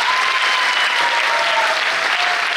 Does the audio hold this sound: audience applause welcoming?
yes